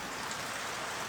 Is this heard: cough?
no